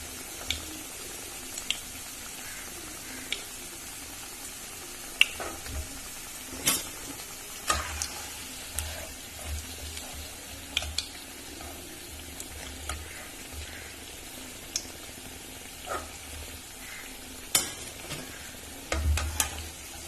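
Raw mango pakoda cooking in oil, with a quiet, steady bubbling sizzle broken by scattered clicks and taps from turning the fritters, fairly faint and close, with no voices.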